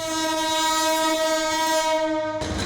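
A Bangladesh Railway train sounds a long, loud, steady horn blast with a rich layered tone as it passes, ending abruptly into rumbling wheel and track noise.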